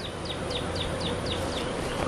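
Honey bees humming around an open hive during an inspection, a dense continuous drone close by, with a repeated high chirp or squeak recurring about every quarter second over it.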